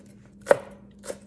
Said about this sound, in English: And then we'll cut up some green onions to add as a topping.